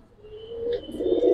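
Giribaz pigeon coos close by, a rising murmuring call that swells louder toward the end over a faint steady background tone.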